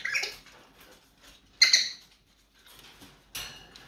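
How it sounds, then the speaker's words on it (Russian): A pet bird gives soft chirps and short whistles in three brief, fairly faint bursts separated by quiet gaps, with no talking over them. "курлычешь. Подсвистываешь."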